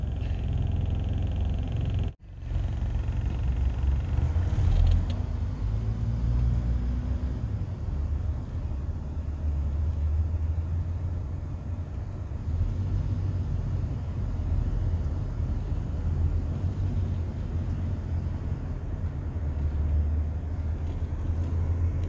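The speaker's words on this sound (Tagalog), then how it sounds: "Traffic." Steady road traffic rumble with passing vehicles, a continuous low engine and tyre drone heard close by outdoors in hot weather, with a brief dropout near the start and no talking.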